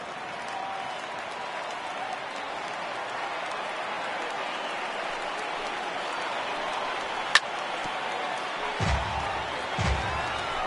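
A baseball stadium crowd of over 39,000 at a Twins versus Angels game cheers as one continuous, broad roar, with a sharp crack and a couple of deeper thumps near the end.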